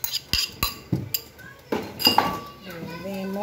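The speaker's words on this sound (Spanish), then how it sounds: "Y revolvemos la ensalada." Salad stirred in a bowl with cutlery, a handful of sharp close clinks and scrapes at an uneven pace while children chatter and shout in the background.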